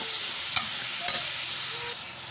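Onions, tomatoes and green chillies fry in a pan, a close, continuous sizzle with a few brief scraping clinks of stirring scattered through it, no voices.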